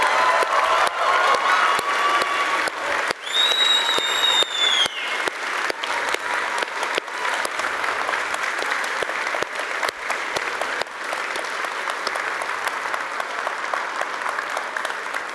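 An audience at a ten-year anniversary livestream celebration breaks into loud, sustained applause and cheering, a dense clapping roar that holds steady for over fifteen seconds with a few whistles early on.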